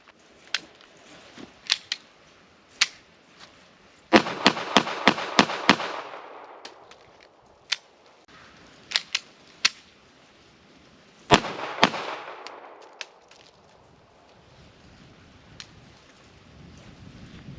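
Shots from a Ruger LCP pistol firing factory reloads: sharp, loud cracks come singly and in quick strings of several rapid shots, with pauses between bursts and faint outdoor background.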